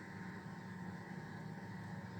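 Steady low engine drone of a 220-horsepower farm tractor in a game, straining to pull a corn planter on an Alsatian farm; a constant, even rumble with no breaks or voices.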